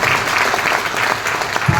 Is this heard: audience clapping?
yes